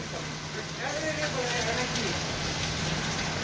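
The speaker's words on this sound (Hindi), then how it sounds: "पूरे पंद्रह दिन बाद बारिश हो रही है ज़बरदस्त वाली" Heavy rain pours down steadily in a dense, even hiss after fifteen dry days, with a faint voice briefly audible beneath the downpour.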